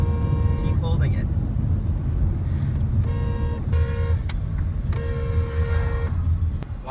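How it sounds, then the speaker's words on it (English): A car horn honks repeatedly in long held blasts on a New Zealand road amid heavy traffic rumble, with voices talking loudly over and between the honks. "Keep honking. Just keep honking. Hold the honk. Keep holding it."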